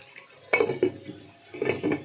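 A small amount of water is poured into a pan of chicken curry in a home kitchen, giving soft, close splashes and a brief clink of cookware in two short bursts.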